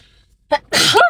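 A single close, loud sneeze: a short sharp intake followed by an explosive burst, with no talking.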